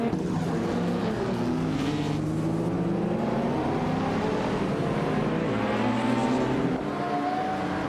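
Engines of vintage race cars, including a 1957 Ferrari 250 GT California on pole, drone and rise in pitch as the field pulls away at the start on the Charlotte road course, a continuous loud revving blend.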